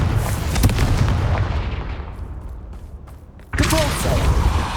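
The Confringo fire spell blasts in Hogwarts Legacy: a loud, rumbling burst that fades over a few seconds, then a second heavy boom hits abruptly.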